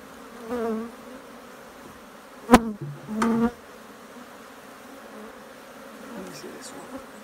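Steady honeybee buzzing from an open hive being split fills the background throughout, with a few louder passes of bees flying close by partway through.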